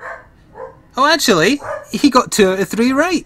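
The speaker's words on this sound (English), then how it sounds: "I apologize for the dog barking." A dog nearby barks and yips in short, high, strained bursts, mixed in with someone talking over a Fallout: New Vegas game session.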